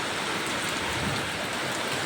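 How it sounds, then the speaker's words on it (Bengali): Torrential storm rain hammers down around a mud-walled house, a thick, constant roar of water that stays loud and even throughout, with no speech. "এই দেখো কি বৃষ্টি মুষলধারাতে।"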